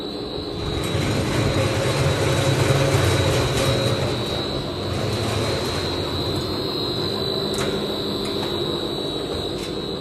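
A 2000L stainless steel horizontal ribbon mixer with screw feeder runs at half speed, giving a loud, steady mechanical drone and hum with faint ticks and clicks throughout.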